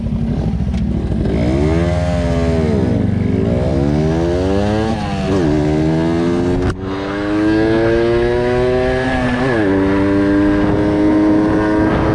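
A Kawasaki Ninja 400 motorcycle pulls away loud and close, its engine revving up through several gears with rising and falling pitch sweeps and a brief break around the middle before it pulls again.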